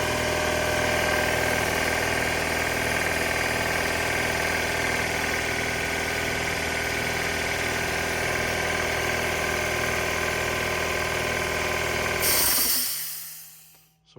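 A 60-gallon Craftsman air compressor fitted with a replacement pump runs steadily and loudly with a constant mechanical drone and vibration, close by, then cuts off with a brief hiss near the end.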